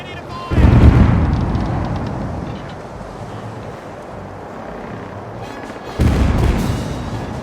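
Ship cannons firing broadside in the Caribbean Legend video game: two heavy, booming volleys several seconds apart, each followed by a rumbling decay over constant wind and sea noise.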